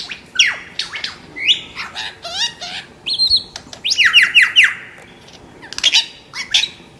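A superb lyrebird sings alone in the wild in Australia, a varied run of sharp whistles, squawks and rising and falling chirps in repeated phrases, fairly near.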